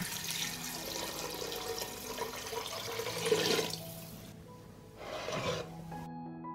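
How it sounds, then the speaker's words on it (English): A liter of water poured into a soup pot, a steady close splashing rush that swells around the middle, drops away, then returns briefly before cutting off. "I will pour a liter of water."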